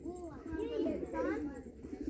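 Pigeons at a village house give soft, rolling coos close by, several rising and falling calls mixed with nearby voices.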